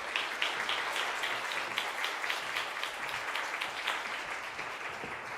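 A church congregation at a special early-morning prayer service applauds to welcome a pastor, a steady wash of many hands clapping at moderate volume with no talk.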